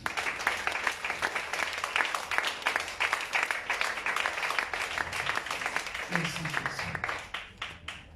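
A church congregation claps and applauds together in a dense, steady wash of hand claps that carries on for several seconds, with voices mixed in beneath, before thinning out and fading toward the end.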